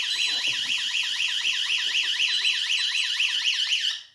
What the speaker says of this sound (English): it sets off the alarm and it actually closes the valve.